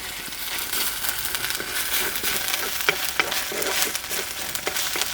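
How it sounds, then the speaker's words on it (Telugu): Onions frying with ginger-garlic paste for a mixed non-veg biryani, a loud dense sizzle throughout with light stirring scrapes and a couple of brief crackles. "ఒకే 1 చెంచా అల్లం వెల్లుల్లి పేస్ట్ వేసుకుని పచ్చివాసన పోయే వరకు వేయించుకుందాం"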